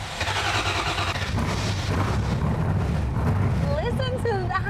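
A 1960s Shelby Cobra race car engine turns over and catches into a loud, steady, close rumble that keeps droning throughout. Near the end someone speaks over it.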